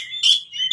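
An oriental magpie-robin sings loud, close bright chirps in a short burst, with a strong central note and a fresh chirp starting at the end, over a quiet background.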